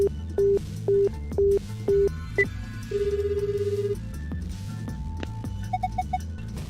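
Telephone ringing in the video game Virtue's Last Reward: four evenly spaced electronic rings, a buzzing tone, then softer beeps, clear and close with no talk.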